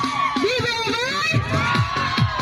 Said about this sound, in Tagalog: Chico, pwede po kayo sumigaw?